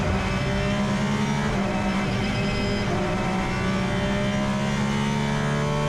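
Race cars pull away at the start of the 4 Hours of Portimao endurance race, a dense, steady roar of many engines droning together without pause, loud and sustained.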